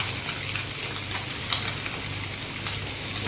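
Chivni fish and pomfret fry in a covered pan over low gas, giving a steady, close sizzle with soft crackles and a few brief pops, uninterrupted by talk.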